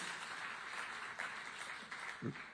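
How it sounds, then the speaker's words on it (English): An audience at an economic growth forum applauds, a soft, steady wash of many hands clapping at a distance, with a brief vocal sound near the end. "can we give him a better round of applause?"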